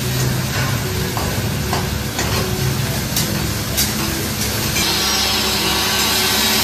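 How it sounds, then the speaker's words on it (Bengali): Stone is cut at a construction job next door with a steady, harsh grinding and rasping roar that runs loud and unbroken throughout, with faint clatters mixed in. "পাশের বাড়িতে কাজ হচ্ছে, একবারে পাথর কাটার আওয়াজ হচ্ছে"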